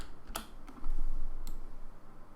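Computer keyboard typing while working in Unreal Engine 4: a couple of crisp key clicks close up over a steady background hum, with no talking.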